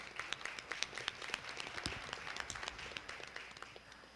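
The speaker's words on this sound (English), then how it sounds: "Yes, we should clap" A small audience at a panel-discussion livestream claps for event partners: scattered, fairly quiet hand claps with irregular rhythm, moderately distant, continuing steadily throughout.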